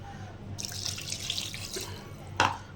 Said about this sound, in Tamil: இப்போ நம்ம தண்ணி ஊற்றிக்கலாம். தண்ணி வந்து ஈரல் முழுகிற அளவு தண்ணி ஊற்றிக்கலாம்.